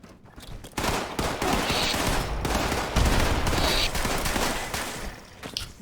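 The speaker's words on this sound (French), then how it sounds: "Attention grenade. J'en balance une, attention." Video game combat with a thrown grenade and gunfire: a sharp blast, then dense sustained bursts of shooting close up, with overlapping shots throughout.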